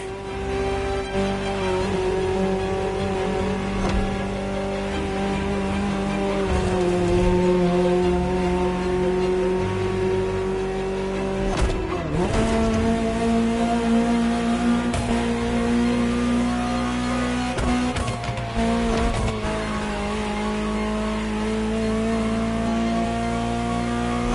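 A Ferrari engine drones steadily in The Crew Motorfest, its pitch rising and falling through gear shifts, with tire noise and brief revving bursts throughout.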